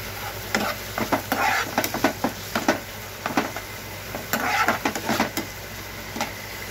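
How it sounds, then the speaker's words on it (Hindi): Chicken samosas sizzle and fry steadily in a pan until lightly golden, with repeated scraping and stirring clatters throughout. "हल्का सा सुनहरा होने तक हम इसे फ्राई करेंगे"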